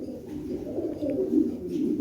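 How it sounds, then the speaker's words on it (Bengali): A pair of large club pigeons cooing close by, soft low throaty coos rolling continuously without talk. "এই দেখেন কবুতর দুইটা, এই 2টা কবুতরই ক্লাবের।"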